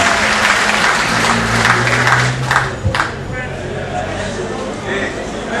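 A crowd at a municipal election list gathering claps steadily and loudly, with a few voices and murmurs mixed into the applause before it thins slightly toward the end.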